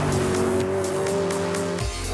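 BMW M3 GTS drifting tail-out on throttle around a test track: loud, sustained engine drone with screeching tyre squeal, the engine note dropping sharply near the end.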